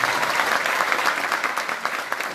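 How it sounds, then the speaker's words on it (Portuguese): A crowd at a political campaign launch for a state deputy candidate applauds Sofia Struck with loud, close, dense clapping that tapers slightly toward the end. "Uma salva de palmas para a Sofia Struck"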